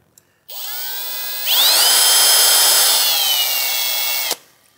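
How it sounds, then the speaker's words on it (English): A power drill bores a hole into a custom Yamaha Banshee part, a steady whining spin that rises in pitch as the bit bites, holds loud for several seconds, then cuts off abruptly. "now I'll just very kindly, and gently drill as straight as I possibly can"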